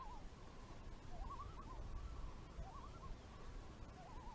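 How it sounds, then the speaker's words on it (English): Common loons call on Fern Lake, faint distant wavering tremolo cries that rise and fall repeatedly over a steady hiss of outdoor background. "the loons here on Fern Lake are just going nuts"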